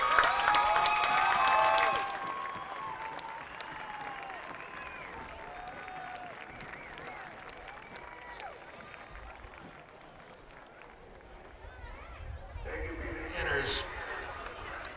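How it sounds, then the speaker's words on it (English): A high school football crowd applauds the 1969 Class A Peabody Tanners champions, a loud burst of clapping and cheering at first that settles into a quieter crowd murmur, with voices talking over it. "A huge round of applause for the 1969 Class A Peabody Tanners champions."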